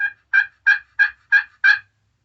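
Six sharp, raspy turkey yelps from a cheap glass friction call, evenly spaced and close, with no talking.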